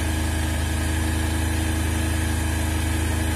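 Small engine idling steadily after a carburetor adjustment, a continuous even drone with a low-pitched hum and light vibration, close and alone with no talking.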